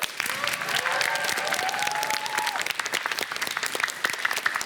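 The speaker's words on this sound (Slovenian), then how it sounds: "En velik aplavz tudi za osnovno šolo Brežice." Audience applause for the pupils of Brežice primary school at a school speed-stacking cup contest, dense steady clapping with a few whistling tones early on, moderately near and lasting throughout.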